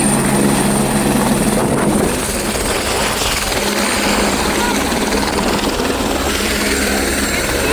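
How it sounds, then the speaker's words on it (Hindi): A helicopter at snowy Kedarnath roars close by, loud and steady, with a constant whirring drone that dominates throughout. "helicopter helicopter helicopter helicopter"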